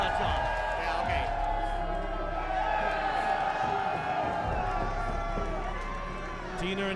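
A wrestling crowd cheers and claps for Deaner and Durag, a sustained roar with scattered whoops filling the arena, continuous and moderately loud under ongoing commentary.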